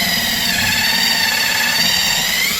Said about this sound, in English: Now I can drill this pilot hole.